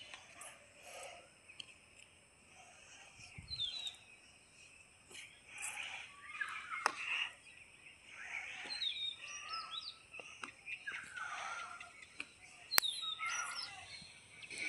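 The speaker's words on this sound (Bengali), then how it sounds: "কত রকমের পাখির ডাক শোনা যাচ্ছে।" Several kinds of birds call and chirp at moderate distance over a constant insect drone in an open farm field where taro is being planted.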